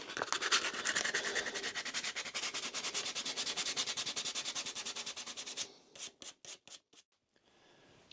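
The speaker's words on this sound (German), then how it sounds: "Jetzt das Ganze noch ein bisschen geschliffen." Small wooden pieces are sanded smooth by hand in a long run of quick, rhythmic rubbing strokes, then several slower separate strokes before it stops, close and without talking.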